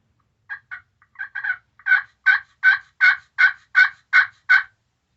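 A glass turkey call gives a run of sharp, evenly spaced yelps, starting with a few soft clucks and then building into about ten loud, rhythmic notes.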